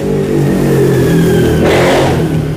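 A motorbike speeds past outside, its engine loudly revving and accelerating with a rising whine, close and continuous throughout.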